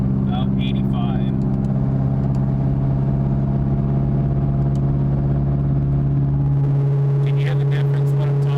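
A 2022 Camaro ZL1 with straight pipes and 2-inch TSP headers cruises at highway speed, its exhaust a loud, steady low drone that shifts slightly in pitch near the end.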